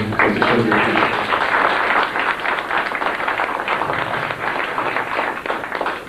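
An audience claps together in a sustained, dense wash of applause that stays loud and even, then tapers slightly toward the end.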